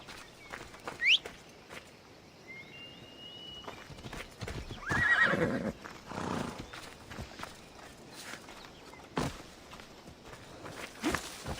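Horse hooves clip-clop at a steady pace in the Assassin's Creed Odyssey game, with a whinny and a few bird chirps over the hoofbeats.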